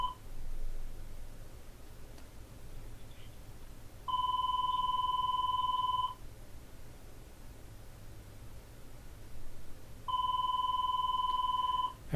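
An office desk phone rings with an unanswered transferred call, giving two separate bursts of steady electronic two-tone ringing about six seconds apart over a faint background hiss, with no one speaking.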